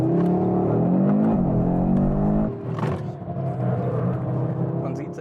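Audi RS 3 prototype in Torque Rear drift mode, its engine droning loud and close with a rising, wavering pitch, then dropping to a rougher rumble of tires and road noise; people talk over it.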